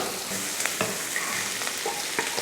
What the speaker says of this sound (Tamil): கொஞ்சம் கருவேப்பிலை, இதை வதக்கிடலாம்